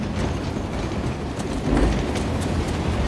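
Loud rumbling of a moving train in the video game Uncharted: The Lost Legacy, a dense continuous rolling roar with rhythmic clacking and a heavier thump midway.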